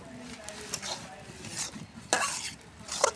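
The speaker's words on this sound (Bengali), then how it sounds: "এভাবে মশলার সাথে আমি আগে কষে নিব, সাজনাটা এর ভিতরে কষে নিব।" Drumsticks being stir-fried with spices in a pan, a metal spatula scraping and clinking at an irregular rhythm over a soft sizzle, close and fairly quiet.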